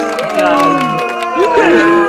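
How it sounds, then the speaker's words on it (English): A small game-show audience of one or two people boos, with overlapping sustained jeering voices rising and falling, loud and close, filling the whole short moment. "Nell's his beloved booing section following him wherever he goes."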